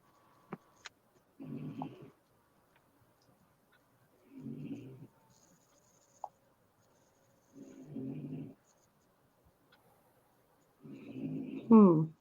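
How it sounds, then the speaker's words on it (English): A dog snores loudly in a quiet room, four long rasping breaths spaced a few seconds apart, close, with a brief voice near the end. "So you're snoring. Yes. So loud."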